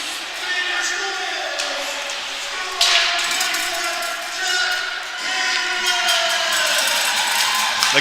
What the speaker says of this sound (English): The crowd erupts here in Pictou County.